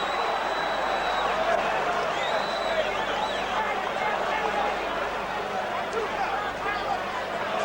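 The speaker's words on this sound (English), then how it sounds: "the crowd signalling that they're enjoying every punch coming in from Tyson" Arena crowd at a 1986 heavyweight boxing bout between Mike Tyson and Mitch Green, a steady dense roar of cheering and shouting that holds at an even level throughout, with no clear voice rising above it.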